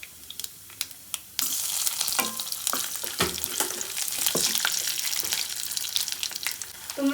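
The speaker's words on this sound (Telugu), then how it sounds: "కొంచెం జీలకర్ర ఆవాలు, ఇవి మంచిగా వేగాలి" Cumin, mustard seeds and garlic hit hot oil for a tempering while ivy gourd fry is cooked, bursting into a sudden steady sizzle after a quiet start, with crackles and pops throughout.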